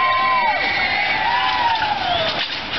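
A crowd cheers, whoops and screams loudly at a hopper truck show at the NOPI Nationals, Thunder Valley, Bristol 2014, with sustained shouting and rising and falling yells throughout, close and dense.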